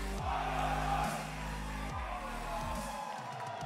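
Crowd at a Counter-Strike esports match at ESL Challenger Melbourne, a broad steady wash of cheering and murmur held under the louder voices of commentators talking throughout.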